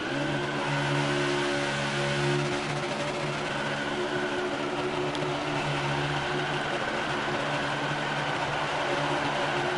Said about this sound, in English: If that's not deserving of a burnout, I don't know what is.